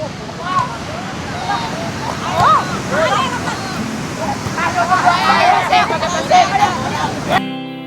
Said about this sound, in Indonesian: Ombaknya gede ya